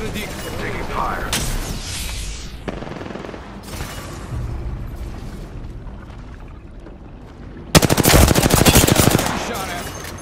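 Gunfire in Apex Legends comes from several directions: scattered shots and bursts early on, then a loud, dense automatic burst near the end over game effects.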